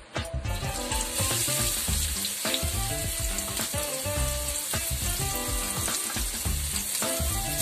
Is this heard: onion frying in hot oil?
yes